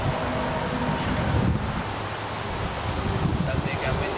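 Wind buffets an outdoor microphone at a sawmill, a steady broadband rumble with gusty low thumps throughout, loud and continuous.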